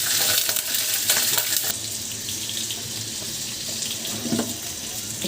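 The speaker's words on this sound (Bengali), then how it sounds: "ডিম ভাজা।" Prawns and egg frying in ghee and soybean oil, a steady broadband sizzle with splashy, watery crackle throughout, close and fairly loud, no voices.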